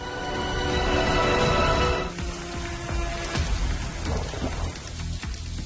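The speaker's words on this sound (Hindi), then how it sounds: "जाफराबाद तटीय इलाके के गांवों में जमकर बारिश हो रही है" Heavy monsoon rain pours steadily over coastal villages in Gujarat, a dense loud hiss throughout, with thunder rumbling in the background and a sharper crack midway.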